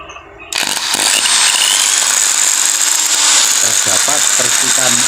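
A faulty Makita electric drill with worn, overheated carbon brushes starts up and runs steadily with a loud, harsh whine and a rough growling, sparking-motor rasp close by.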